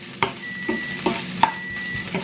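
Food sizzles softly in a frying pan while a spoon scrapes and taps in a loose rhythm, about five stirring strokes.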